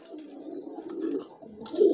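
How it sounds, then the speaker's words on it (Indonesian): Pigeons coo close by in a short, soft, throaty burst that swells near the end, with no talk over it. "Merpati yang giring keras lagi."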